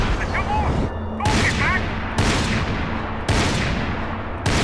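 Gunshots ring out in the video game Max Payne 3, with four heavy booming shots at a steady rhythm and brief reverberant tails, with game sounds in the background.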